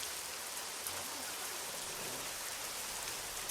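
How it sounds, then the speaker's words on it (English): Steady rain in the Euro Truck Simulator 2 driving game, a constant soft hiss of drops on the truck with no talk, even and unbroken throughout. "Ooh, in the rain."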